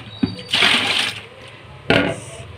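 Running water splashes over raw liver being rinsed at a kitchen tap, in two bursts: a longer gush of about half a second, then a shorter splash after a pause, with a small clink before the first.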